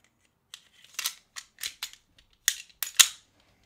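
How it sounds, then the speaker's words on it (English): Sig Sauer P-series pistol slide being reinstalled after a trigger kit install, a series of quick metallic clicks and scrapes, close and fairly quiet, with a sharper snap near the end. "And then we can reinstall the slide for a function test."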